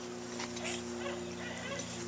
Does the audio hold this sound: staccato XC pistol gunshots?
no